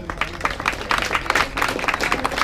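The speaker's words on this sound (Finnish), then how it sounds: "Aplodit myös heille." A crowd gives dense, steady applause for the finishers of a Finnish race, Porin Raasto 2016, with rapid clapping from many hands sustained throughout.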